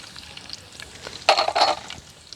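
Ginger and garlic hit hot oil in a pan for beef thoran, giving a sudden burst of sizzling and frying that swells for about half a second, then settles back toward a quieter, steady crackle.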